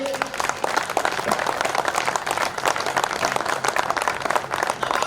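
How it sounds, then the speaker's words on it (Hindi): An audience at a kavi sammelan poetry gathering for Maharana Pratap Jayanti breaks into sustained applause, a fairly soft, even patter of many hands clapping across the whole stretch. "एक बार मुझे तालियों से आदेशित करिए।"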